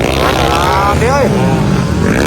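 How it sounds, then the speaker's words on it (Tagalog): An enduro motorcycle engine races loudly at close range at a local enduro event, a rough droning roar with a rising rev sweep. Someone talks excitedly over it throughout. "Grabe kang power ng motor."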